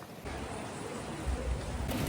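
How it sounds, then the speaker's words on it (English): Rain falls steadily during a walk through Bratislava, a soft, even hiss of drops with no break, moderately quiet and close, with no voices. "It is like really raining right now."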